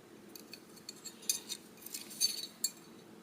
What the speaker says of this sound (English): Looks like each one of them came with a spoon.